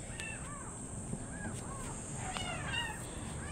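Three kittens meow repeatedly, with thin high-pitched cries in quick overlapping bursts, fairly close, over a quiet hum.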